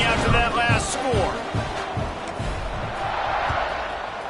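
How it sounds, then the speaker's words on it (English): Football stadium crowd at a TCU versus SMU game buzzing after a touchdown and extra point, a steady broad roar of many voices with scattered shouts and thumps, a commentator's voice running over it throughout. "Crowd is buzzing after that last score."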